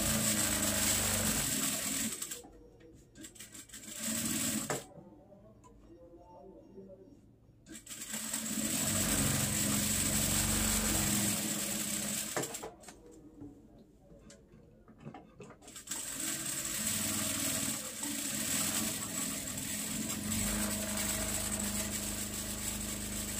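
A sewing machine stitching fabric for a sleeve design runs in loud, steady whirring bursts, stopping briefly twice between stretches of stitching.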